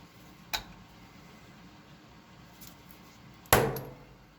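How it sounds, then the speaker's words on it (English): A hammer strikes a metal punch twice while fitting ball bearing axles to an American Flyer steam engine: a lighter tap, then about three seconds later a louder ringing hit, with quiet room noise between. "I'll whack it with a hammer."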